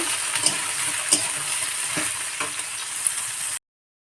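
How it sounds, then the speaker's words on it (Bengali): Soaked soybean chunks frying in hot oil in a wok, a close continuous sizzle with occasional sharp pops and stirring scrapes, cutting off abruptly before a brief return. "সয়াবিনগুলো খুব সুন্দর করে লাল লাল করে ভেজে নেব"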